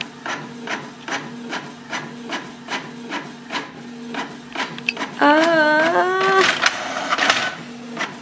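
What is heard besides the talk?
printer printing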